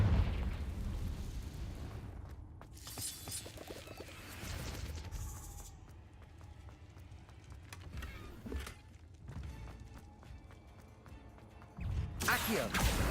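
In Hogwarts Legacy, a Confringo explosive spell goes off in a burst of blasts and crackling bangs mixed with other combat noise, and a voice talks over parts of it.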